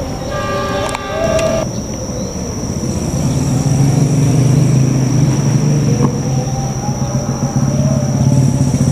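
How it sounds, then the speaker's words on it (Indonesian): The Mutiara Selatan passenger train passes near Gedebage station with a loud, steady rumble of wheels on rails, a high whine above it and clattering at the start. "Kereta api Mutiara Selatan."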